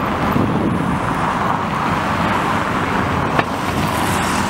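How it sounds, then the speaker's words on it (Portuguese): Steady, dense car traffic flows past on a busy avenue, a continuous broadband roadway rumble with no distinct gaps, heard from nearby with some wind, and one brief sharp click near the end. "Aqui tem um trânsito bem fervoroso, mas é carro que não acaba nunca passando pela Avenida Dorival Caymmi."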